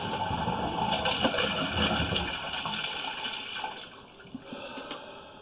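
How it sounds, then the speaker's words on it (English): A toilet flushes somewhere in a building during a sewer pipe camera inspection, a steady rushing gush of water that fills the clip and slowly eases off toward the end. "Somebody just flushed the toilet"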